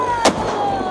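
A single shotgun blast fired at ducks during a youth waterfowl hunt, a sharp loud crack under steady outdoor background noise.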